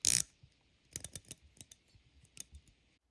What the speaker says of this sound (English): This may be the difference between having a stainless steel bezel and a titanium one, but I just think it sounds clunky.